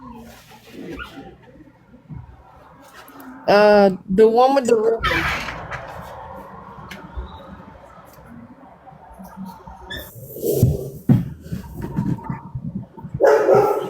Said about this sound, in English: It sounds like there's a puppy whining.